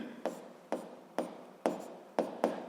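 Writing strokes during a seventh-grade physics lesson: six short, distinct scratches at a steady pace about half a second apart, close and clear, with no talking.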